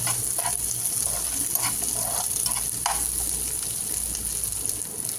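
Onions for an Afghani egg curry fry in a pan with a steady, close sizzle and crackle throughout, marked by a few brief louder spits and stirring scrapes.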